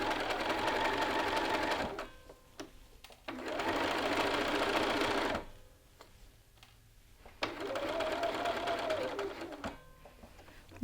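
A sewing machine stitches a jacket lapel along its roll line in three bursts of steady, rapid whirring, each lasting about two seconds, separated by quiet pauses with faint handling clicks.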